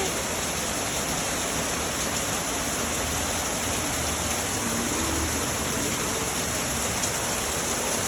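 Heavy rain pours down in a steady, dense, unbroken rush that fills the whole stretch evenly, with no voices over it.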